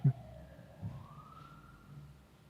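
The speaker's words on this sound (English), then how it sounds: "That's an ambulance coming back from the game." An ambulance siren from a college football game passes at a distance: one faint, thin tone slowly sweeps upward and holds steady for a couple of seconds over low background rumble.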